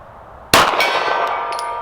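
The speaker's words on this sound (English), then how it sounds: "I'm going to go for the silver gong on the left" A bullet fired from a Walther handgun at 50 yards strikes a silver steel gong target, giving a single sharp metallic clang that rings on and slowly fades.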